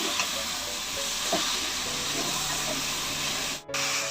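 Two medium tomatoes and a couple of green chillies sauté in a hot pan, with a constant close sizzle and hiss and a brief dip near the end.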